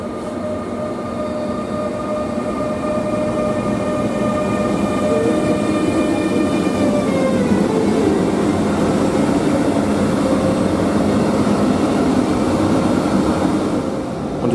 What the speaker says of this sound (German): Und hier haben wir jetzt den Railjet.